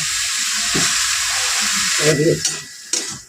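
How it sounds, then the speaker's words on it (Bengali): Cabbage being stirred with spices in a hot pan for a fish-head cabbage curry, giving a steady close sizzle with a few louder scraping stirs, and no talking. "আমরা মশলার সঙ্গে ভালো করে মিশিয়ে নেব"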